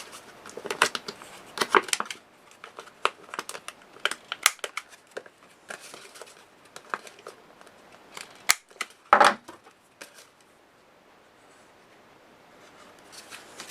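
Paper being cut and its corners rounded for a photo album, a run of sharp irregular snips and clicks with scattered rustling, close by and with no talking.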